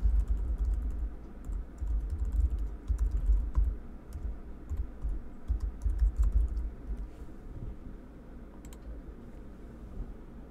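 Someone types on a computer keyboard to enter login credentials, with light, fast key clicks that are faint over a low steady hum.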